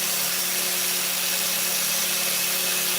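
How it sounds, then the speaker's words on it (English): A 30 grit flapper wheel on a power tool fleshing meat from a cowhide, a loud, constant grinding whine with a steady hum beneath, close and unbroken throughout, with no talking. "That's a flapper wheel. I always call this a flat disc, but yeah. That's a 30 grit. It'll take off the meat."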